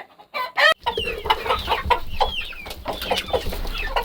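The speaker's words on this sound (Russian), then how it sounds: "Вот как мои курочки набрасываются на вареные картофельные очистки." Hens cluck and chatter close by in quick overlapping bursts while pecking at boiled potato peelings, with a few sharper squawks near the start.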